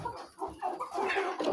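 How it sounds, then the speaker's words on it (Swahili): Chickens and roosters in a crowded poultry house give short, close clucks, several overlapping calls rising over about a second and a half. "Kwa mfano hapa ndani pana majogoo mengi, karibu yanalingana idadi na temba"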